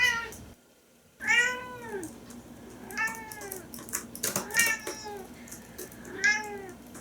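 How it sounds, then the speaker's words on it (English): A pet cat named Fiona meowing insistently at dinner time, several distinct drawn-out meows spaced a second or two apart, close and clear in a quiet room. "Would you please stop meowing so much?"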